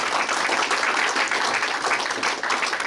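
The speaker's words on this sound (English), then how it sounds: "Give big round of applause so that everybody can listen." A big round of applause from a conference audience at a college physical education international conference, loud and sustained clapping filling the whole stretch.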